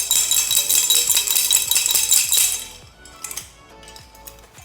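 Loose metal chunks from a broken oil pump rattling and clinking inside a 629hp Integra engine, a busy metallic shaking up close that breaks into a few scattered clinks.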